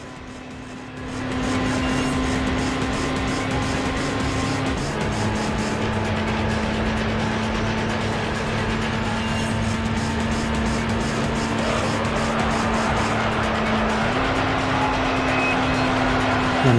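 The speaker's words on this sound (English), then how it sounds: "I'm over-revving a substantial amount." Race car engine in the video game Gran Turismo 3 held at high, over-revving pitch, a steady loud drone with brief shifts in tone, continuing without pause.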